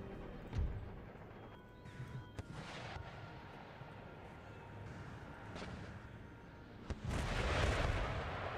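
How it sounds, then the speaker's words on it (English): Artillery bombardment in the Empire: Total War strategy game, with booming cannon shots and explosions at irregular intervals over a rumbling battlefield background, one heavy blast near the start and a louder burst late on. "Put artillery bombard the bejesus out of them"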